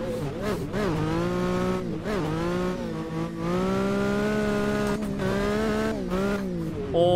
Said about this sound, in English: here's that transmission whine